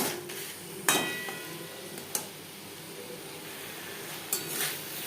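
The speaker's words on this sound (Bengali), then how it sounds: "মশলার সাথে আলু আরও তিন চার মিনিট নাড়াচাড়া করে নেওয়ার পর" Boiled diced potatoes tossed with spices in a pan, a quiet low sizzle under a few sharp clinks of the utensil against the pan, spaced out and fairly close.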